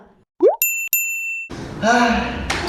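A notification bell sound effect rings out in two bright, sustained dings, preceded by a short plop and followed by voices talking and laughing.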